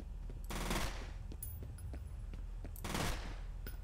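Rapid gunfire in F.E.A.R. comes as two dense bursts of quick shots, sharp and fairly close, separated by a lull with scattered single cracks.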